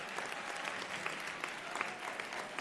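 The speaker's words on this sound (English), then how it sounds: "Let's give one more round of applause for them." An audience at a nursing school convocation applauds graduates leaving the stage, a dense, even wash of many hands clapping at moderate distance.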